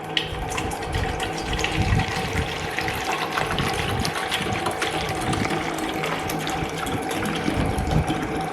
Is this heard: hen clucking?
no